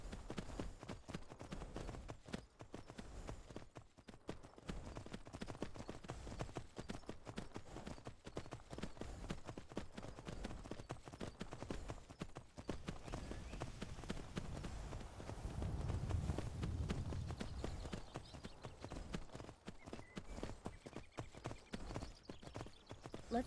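Steady clip-clop of horse hooves in a video game at a brisk pace, continuous and fairly quiet, with a faint low rumble underneath.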